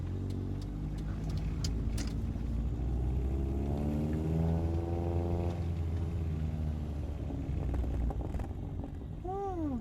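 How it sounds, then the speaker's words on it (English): A Chevrolet Spark's exhaust burbles and rumbles in first gear at roughly 2,000 to 3,000 RPM, with a steady close engine drone, rising and falling revs, and crackling pops over about ten seconds. "Let's do like one more first gear burbles just around this corner."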